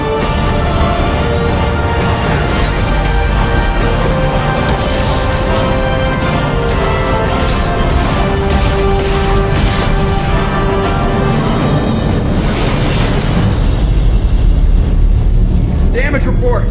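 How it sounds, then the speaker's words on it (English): Heavy, continuous roaring rumble and metallic crashing from an explosion in the main engineering section of a starship in Mass Effect 2, loud and dense throughout, with a voice speaking over it. "Explosion in main engineering."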